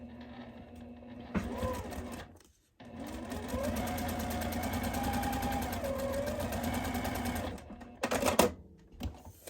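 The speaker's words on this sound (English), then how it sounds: "sew down all the way with my shortened stitch length, and I do not do a back stitch" A sewing machine runs a steady whirring stitch along a seam in foundation paper piecing with a shortened stitch length, starting and stopping with brief pauses, close and fairly quiet as someone talks.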